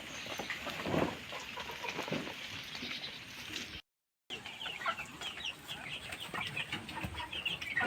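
Chickens in a poultry farm cluck and call repeatedly at moderate distance, a continuous busy flock chatter with a brief gap of silence midway.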